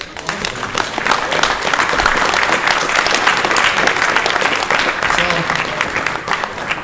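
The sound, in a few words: audience round of applause at awards ceremony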